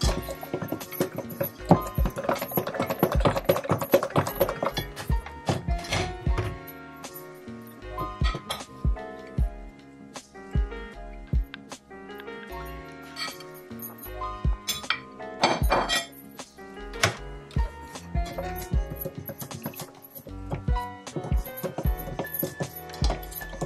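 Vanilla and pineapple sponge cake batter being stirred by hand in a bowl, with steady clinking and tapping of a utensil against the bowl, close and repetitive throughout, and no talking.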